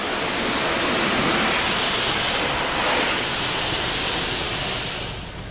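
Belanger Kondor KL2 car wash machine at Dos Amigos Car Wash in El Paso, Texas, spraying clear coat onto a car: a loud, steady hiss of spray that rises and eases slightly, with no voices.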